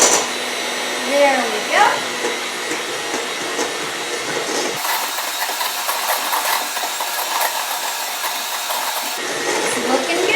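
An electric mixer whirs steadily as it beats Italian pizzelle batter, a constant close drone that drops in pitch partway through, with a voice speaking briefly over it.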